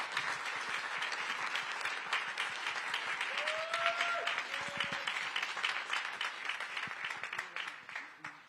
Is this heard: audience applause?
yes